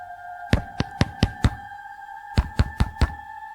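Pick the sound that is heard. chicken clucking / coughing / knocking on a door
knocking on a door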